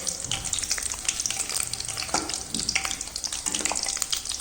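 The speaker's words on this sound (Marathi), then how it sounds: "आणि मध्यम गॅसवरती तळून घ्यायचं।" Sabudana (sago) chips deep frying in oil over a medium flame, giving a loud, continuous close-up sizzle and crackle with steady bubbling and no talking.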